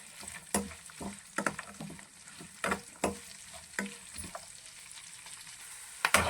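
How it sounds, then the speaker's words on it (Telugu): Cashew nuts frying in a pan for temple-style curd rice, a steady soft sizzle broken by sharp clicks and scrapes of stirring at irregular intervals, close by with no talking. "జీడిపప్పు కూడా వేసి చక్కగా వేయించుకుందాం"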